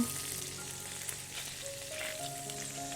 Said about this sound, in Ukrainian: Смажимо ще декілька хвилин і виймаємо філе на тарілку.